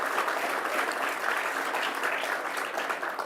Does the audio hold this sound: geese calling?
no